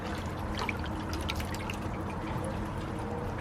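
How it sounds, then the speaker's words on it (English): Water poured steadily from a bucket into an aquaponics fish tank along with fish, a continuous close splashing gush with no talk. "You want to just dump the whole bucket in?"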